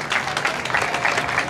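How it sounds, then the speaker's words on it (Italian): A short stretch of loud, close applause for a contestant at a Miss Trieste beauty and dance show, dense and continuous clapping with no voices standing out. "un applauso Caterina, complimenti"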